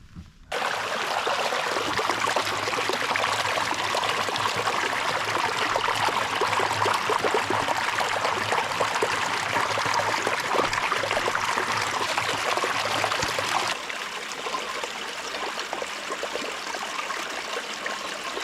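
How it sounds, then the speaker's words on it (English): A flowing California creek runs steadily and close by, with a dense, continuous rush and babble that eases slightly toward the end. No voices are heard. "This entire creek is running pretty good"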